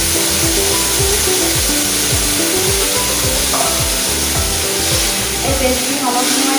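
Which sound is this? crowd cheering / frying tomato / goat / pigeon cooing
frying tomato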